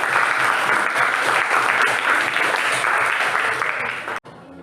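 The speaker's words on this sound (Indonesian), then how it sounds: "Oke, tepuk tangan dulu" Classroom applause after a student group presentation, dense steady clapping from many hands at fairly loud level that cuts off abruptly near the end, leaving quiet room tone.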